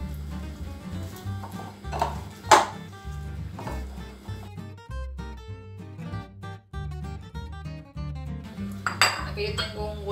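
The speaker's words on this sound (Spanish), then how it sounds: "Todo lo vamos a mezclar bien." Mashed boiled yuca is mixed with salt and oil in a bowl. A utensil scrapes and knocks against the dish in irregular clinks and thumps, close by, with a few sharper taps.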